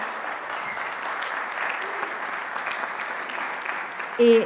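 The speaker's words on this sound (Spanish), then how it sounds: "Démosles un aplauso, por favor, a todos" An audience at a primary health care conference applauds a panel, with steady dense clapping throughout at moderate distance and a brief voice at the very end.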